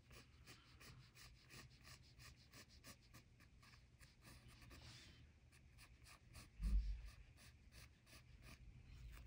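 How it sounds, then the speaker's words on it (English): A pencil lightly draws lines on paper, a faint, close scratching in quick repeated strokes with soft breathing in the background. "I'm going to connect these very lightly with my pencil"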